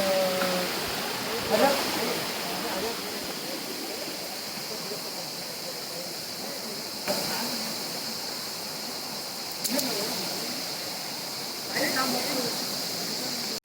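Water rushes steadily at a waterfall, a constant broadband roar close by, while people talk intermittently over it.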